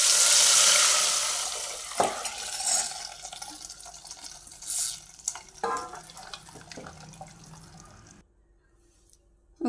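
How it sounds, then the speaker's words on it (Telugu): Water pours into a cooking pot of buttermilk for chaaru, a splashing gush that fades out, followed by a few small stirs and clinks and then near silence. "కొన్ని నీళ్ళు కూడా వేసుకున్నాం."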